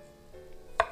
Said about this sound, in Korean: 두툼하게 썰어 보겠습니다